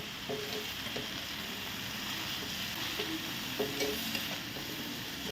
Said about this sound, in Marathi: आता घालूया गूळ एकदा आता आपण ढवळून घेऊया